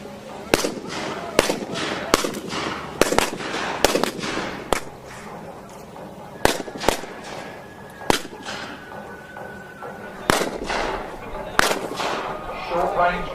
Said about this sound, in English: Short-range carronades are fired into the hulls of the ships, causing havoc below decks.